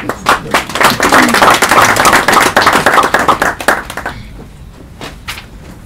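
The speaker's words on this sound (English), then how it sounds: "another round of applause to you" Audience applause after a performance of the play Nongogo: loud, dense clapping that thins out and fades to a few scattered claps near the end.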